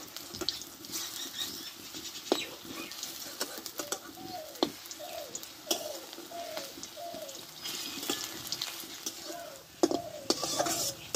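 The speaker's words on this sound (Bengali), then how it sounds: "এগুলো মিডিয়াম আঁচে ভাজতে হবে" Radish kofta fry in oil over medium heat with a soft, steady sizzle and occasional spits and stirring clinks. Birds chirp faintly in the background and no one speaks.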